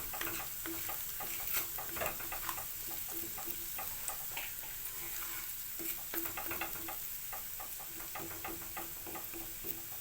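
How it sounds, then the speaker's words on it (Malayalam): Ginger and garlic frying in a little oil in a pan for a spicy fish curry, stirred continuously with quick rhythmic spoon scrapes and taps over a constant nearby sizzle. "അത് നല്ലപോലെ ഒന്ന് ഇളക്കി കൊടുക്കുക."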